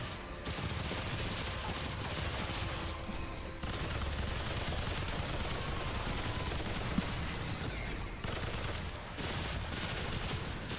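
Relentless, dense gunfire from a no-reload weapon build in Remnant II pours out continuously at high volume, with only brief momentary breaks in the stream of shots.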